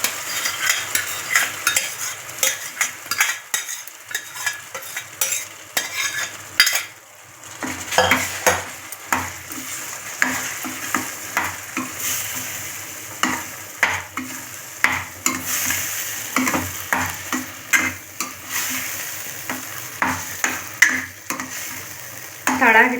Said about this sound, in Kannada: ತಳ ಹಿಡಿಬಾರ್ದು, ಕೈಯಾಡ್ತಾ ಇರಬೇಕು.